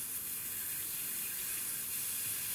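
Water escaping under pressure from a leak between the aluminium inner nozzle and carbon fiber layer of a water rocket booster, a steady close hiss and trickle that holds level throughout, with no talking.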